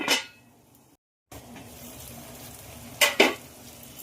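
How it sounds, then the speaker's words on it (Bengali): Potatoes and spices fry in a pan with tomato and yogurt, a steady low sizzle broken by a brief silence, with two sharp scraping stirs of a utensil against the pan near the end. "আলু আর মশলা কিন্তু একদম ভাজা ভাজা হয়ে গেছে"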